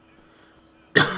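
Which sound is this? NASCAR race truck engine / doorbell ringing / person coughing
person coughing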